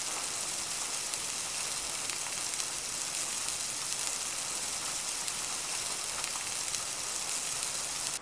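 A burger cooking on a grill in the game Kiosk, a steady hissing sizzle like light rain that stays even and unbroken the whole time, with no voices over it.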